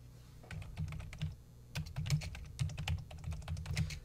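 Fingers type a search on a computer keyboard: quick, close keystroke clicks in two bursts separated by a short pause, with no voices.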